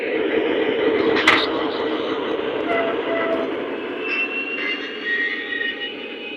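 A Lionel Panama Canal Railway SD40-2 model locomotive runs forward with a steady diesel engine rumble and whine. The sound is continuous and fairly close, and a voice is heard over it.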